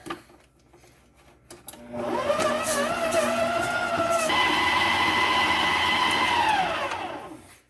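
An electric mixer beats butter and sugar together, spinning up from quiet into a loud steady motor whine whose pitch shifts and rises midway, then holds and tapers off at the end.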